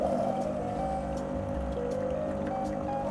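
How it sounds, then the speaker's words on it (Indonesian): A Ferratti Ferro FCM-506 fully automatic espresso machine runs its flushing cycle, pushing water through with a steady hum and faint trickle, quiet and continuous with no talking. "sekarang proses flushing ya. Jadi flushing airnya keluar."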